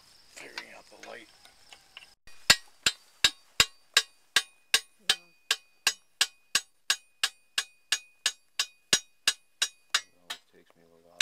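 A hammer peens the edge of a scythe blade against metal, about twenty ringing, evenly paced blows at close range. The strikes follow a brief stretch of quiet talk.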